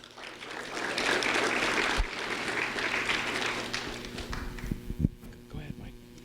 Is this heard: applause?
yes